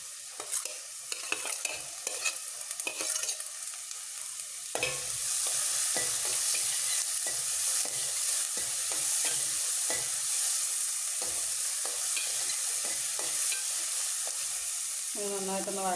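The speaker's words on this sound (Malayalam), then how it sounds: "ഇത് നന്നായിട്ടൊന്ന് വഴന്ന് വരട്ടെ" Sardine curry base of tomato and green chilli sautéing in a pan, a steady close hiss of frying broken by repeated scraping stir strokes, with a sharper burst of sizzle partway through and no talk.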